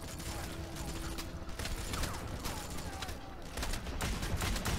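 Dense, continuous gunfire including sniper shots in the video game Wanted: Weapons of Fate, a busy battle din with metallic mechanism clicks, loud and unbroken, partly under a voice.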